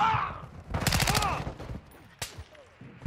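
A Chimera assault rifle fires a rapid burst in Call of Duty: Modern Warfare II, a tight rattle of close shots followed by a few scattered single reports amid game ambience.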